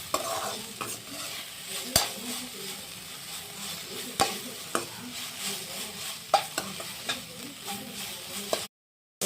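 Green beans and onions sizzle in a hot pan with curry leaves while a spoon repeatedly scrapes and stirs, giving sharp clicks over a steady frying hiss before a brief silence.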